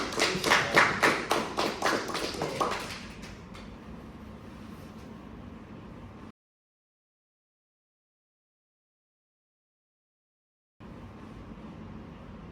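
Class of students clapping their hands in a classroom, a burst of quick, loud claps for about three seconds that fades into quiet room noise, then silence.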